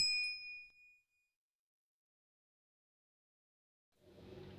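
A single bright bell ding rings out and fades, followed by silence and then a soft low rumble.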